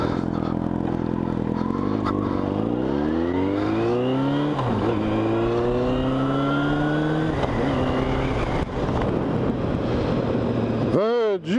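A heavy construction machine engine drones past, its pitch rising and falling as it approaches and recedes, loud and close, ending with a sharp revving sweep.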